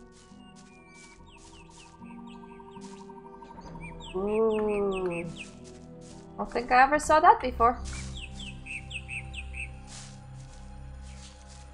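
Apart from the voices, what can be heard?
birds chirping in the video game Gothic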